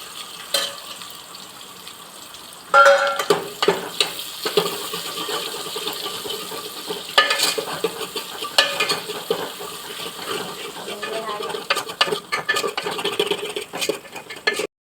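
Crushed onion fries and is stirred in a pan in a village kitchen, with a continuous sizzle and repeated scraping, rattling stirs close by for the whole stretch.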